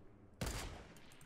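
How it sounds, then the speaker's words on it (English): Sniper rifle shot in the Fortnite battle royale game: one sharp, loud crack that bursts suddenly after a quiet moment, then a short ringing tail fading over a second. "Oh, I can get a snipe off."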